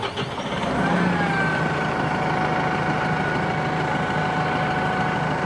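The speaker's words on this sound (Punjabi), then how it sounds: "ਸਟਾਰਟਿੰਗ ਕਰਕੇ ਦਿਖਾਉਣੇ ਆ ਟਰੈਕਟਰ ਦੇ ਤੋਰੇ ਤੋਰੇ ਕਿਵੇਂ ਨੇ" A Deutz-Fahr 2024 tractor's diesel engine rumbles steadily at close range, settling into an even, continuous idle with no voices over it.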